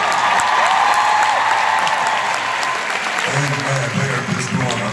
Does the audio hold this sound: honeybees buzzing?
no